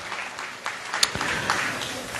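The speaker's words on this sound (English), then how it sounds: "let's give them a big round of applause for all the board members" Audience at an anniversary gala applauds the board members, a short spell of moderately loud, scattered clapping with a few sharper individual claps standing out.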